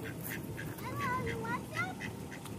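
Ducks at a feeding station quack repeatedly in short nasal calls, close and moderately loud, over outdoor background noise.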